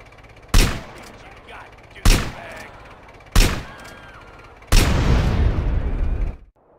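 Gunfire in the GTA Trilogy video game: three sharp, loud single shots at fairly even intervals, then a sustained rattling burst that cuts off abruptly.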